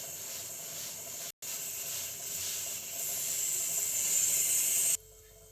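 A kitchen pressure cooker of dal releases steam in a steady loud hiss, briefly cut once, then stopping abruptly near the end.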